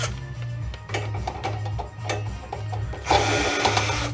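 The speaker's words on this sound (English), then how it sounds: "Let's get these screws out," A power drill backs screws out of a print shop conveyor belt with worn, grinding bearings, giving a steady, rhythmic pulsing whir at close range that climbs into a louder, brighter whine near the end.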